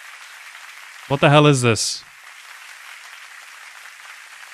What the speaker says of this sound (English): Why are they clapping him?